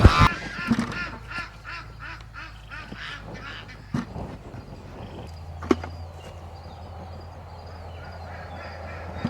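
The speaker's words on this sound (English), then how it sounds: "Ducks get so mad when I pick these up." Ducks on a North Texas farm quack and squawk in an agitated burst at the start, then scattered calls continue over a low background hum.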